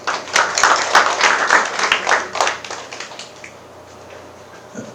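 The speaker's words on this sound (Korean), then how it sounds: "박수로 모시겠습니다." Audience applause at a startup demo day pitch event in Cheongju, a burst of clapping from a crowd that swells for about three seconds and then thins out and fades.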